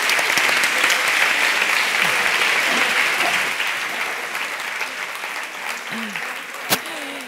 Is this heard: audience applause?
yes